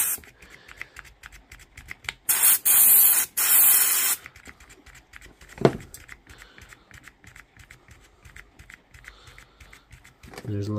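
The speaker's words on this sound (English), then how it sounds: "spray it with electrical contact cleaner and around the motor and then around the switch here" Electrical contact cleaner sprayed from an aerosol can onto the switch and motor of a DeWalt impact driver: one loud, steady hiss lasting about two seconds, broken by a brief pause, followed by quieter handling clicks and another short burst near the end.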